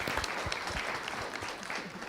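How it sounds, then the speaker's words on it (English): An audience at a panel discussion on substandard and falsified medical products applauds the panelists, a dense, steady wash of many hands clapping at close range, with a faint voice underneath. "Round of applause, please, for our panelists."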